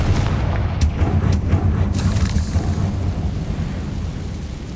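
A Confringo blasting spell explodes in the Hogwarts Legacy video game, a loud rumbling boom with sharp bursts early on that settles into a sustained low roar, with no talk.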